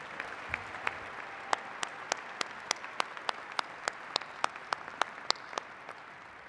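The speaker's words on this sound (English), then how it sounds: "please offer another round of applause for our new Doctors of Technology and" An audience applauds for new Doctors of Technology and Education at a university fall commencement ceremony. The clapping is steady and moderately distant, with distinct individual claps standing out against a softer continuous patter, and no talking over it.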